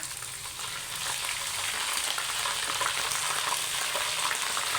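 Steady, dense sizzling of onions frying in hot oil with ginger garlic paste, close and continuous with faint stirring scrapes throughout.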